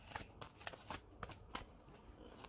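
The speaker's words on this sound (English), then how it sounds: "I'll shuffle it one more time." A deck of tarot cards is shuffled up close, giving a series of quick, papery riffling bursts that repeat every fraction of a second with no voices.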